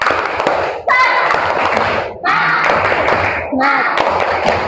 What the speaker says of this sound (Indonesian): kita tepuk semangat dulu deh ya?